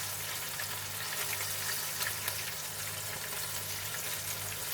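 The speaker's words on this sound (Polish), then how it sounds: "Tutaj ryby mi się smażą" Steady, quiet sizzling and crackling of carp fish strips frying in hot oil, with a low electrical hum beneath.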